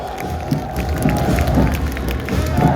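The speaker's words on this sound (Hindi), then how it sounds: "आप चाहे तो इस स्त्री शक्ति का तालियों के साथ स्वागत करें" A crowd at a Republic Day parade in Lucknow welcomes a marching women's contingent with scattered applause over a loud, constant outdoor crowd noise, with a steady tone humming through it.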